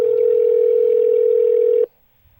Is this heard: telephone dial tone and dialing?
yes